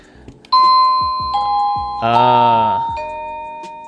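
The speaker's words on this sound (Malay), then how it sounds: "So memang kuat gila bunyi loceng dia." A loud wireless doorbell chime plays a sequence of ringing tones, one bright buzzy note in the middle, with soft clicks and taps around it.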